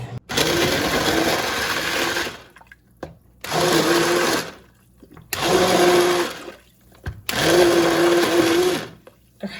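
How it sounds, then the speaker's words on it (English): An immersion blender purees squash, pesto and garlic in loud, whirring bursts, with four runs of a few seconds each separated by short pauses, close up. "I'm going to use my immersion blender because it's faster and a little bit less messy"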